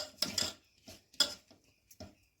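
Maida, semolina and rice flour are stirred together in a bowl for malpua batter, giving a few separate clinking, scraping strokes of a utensil against the bowl with short pauses between, fairly close.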